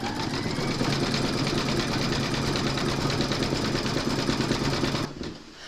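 An embroidery machine stitches a koala applique in purple thread, a steady, dense mechanical whir with rapid needle pulses running evenly for about five seconds before stopping abruptly.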